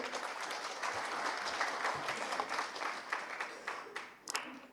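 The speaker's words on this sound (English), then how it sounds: "a round of applause for this illustrious family" A crowd at a school's annual function claps steadily for an honored family. The applause sounds soft and somewhat distant, with a few sharper claps near the end.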